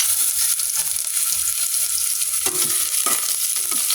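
Garlic frying in hot oil for chicken curry, a steady, loud, close sizzle with crackling pops running throughout and a few sharper spatters near the end.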